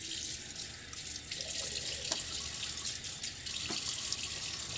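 Tap water runs continuously into a sink while splashes are thrown onto a face during a wet shave routine, with a few sharper splash accents over the steady hiss.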